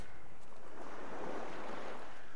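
Sea waves in the horror adventure game The Last Door, a soft continuous wash of surf and wind with no distinct breakers, steady and fairly faint throughout.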